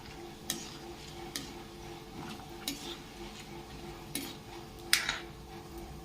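Peanuts and urad dal fry in a pan for an okra fry, a soft continuous crackle close by, punctuated every second or so by light spoon taps and clinks against the metal.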